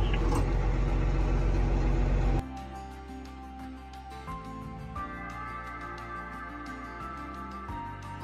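A farm truck pulling away on the first day of harvest: a heavy, loud low rumble cuts off abruptly, leaving a quieter engine drone with shifting tones that fades as it moves off.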